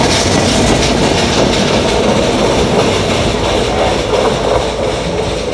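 A train pulling out of a neglected railway station in Bangladesh, a loud, close, continuous rumble of wheels and rail cars with rhythmic clatter, steady throughout with no speech.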